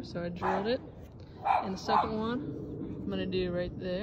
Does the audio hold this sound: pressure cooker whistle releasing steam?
no